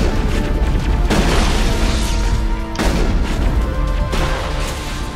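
Heavy explosions from satellite strikes in Mass Effect, a loud rolling series of deep booms arriving in waves, each blast thundering and decaying into the next with no talk over them.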